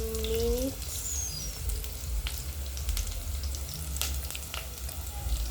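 Onions frying in a pan as part of a plantain dish, a continuous close hiss and crackle of oil with a few faint scrapes and background tones.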